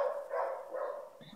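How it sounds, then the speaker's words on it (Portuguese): A shepherd mix dog barking indoors at home, a short run of muffled, moderately loud barks and yips in quick succession, heard alone without talk. "Esse que tá latindo é o Toby"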